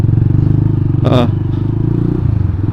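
A motorcycle ridden on the road in Makassar, its steady engine drone and road rumble running throughout, with a voice talking over it and a brief clatter near the middle.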